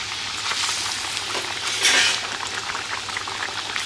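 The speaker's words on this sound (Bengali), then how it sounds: "জলটা ফুটে গেছে, এখন মাছগুলো ছেড়ে দেবো।" Water boils briskly in a pot as pomfret fish are dropped in, a steady bubbling hiss with a brief louder splash and surge partway through.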